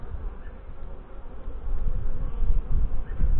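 Honey bees buzz close by during a hive inspection, a dense, continuous hum that grows louder after the first second and a half, with no voices.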